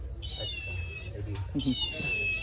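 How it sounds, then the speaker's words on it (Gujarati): A toy cat gives two high, electronic-sounding meows separated by a short gap, close and clear, with voices nearby. "મિયાઉ મિયાઉ કરે."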